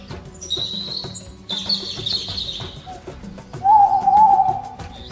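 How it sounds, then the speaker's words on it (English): An owl calls in a short sequence of hoots, with softer chirping bird sounds mixed in, fairly close and clear against a quiet background. "Owls are birds with big eyes, and they can turn their heads almost all the way around."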